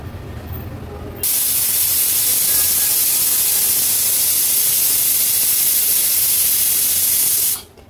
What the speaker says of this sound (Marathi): कुकरचं झाकण लावून एक 10 ते 12 आपण शिट्ट्या काढून घेणार आहोत